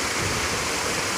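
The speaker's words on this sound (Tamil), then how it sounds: "இதில் வந்து இப்போ தண்ணி கம்மியாக தான் போயிட்டுருக்கு." Floodwater rushing under a small village bridge, a steady broadband roar with no break.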